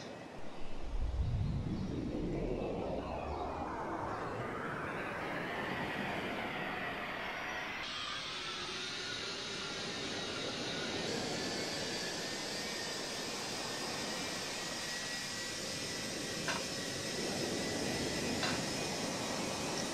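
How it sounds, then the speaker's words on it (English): Beriev A-50 jet engines starting up in the Roblox game Aeronautica, a low rumble that spools up into a rising whine and then settles into a steady, loud, roaring hum. "Let's start the engines."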